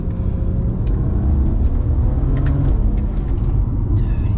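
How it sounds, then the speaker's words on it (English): A street car with a drag-tuned transmission accelerates hard, its engine roaring steadily close by and its tires breaking loose on the 2-3 gear shift, with a dense low rumble through the whole run. "Breaking loose on a 2-3 shift."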